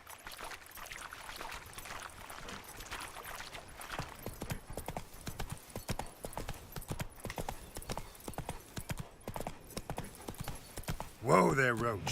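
Roach the horse galloping in The Witcher 3 game, a steady rapid clip-clop of hooves running throughout with a brief whinny near the end, and a person talking over it.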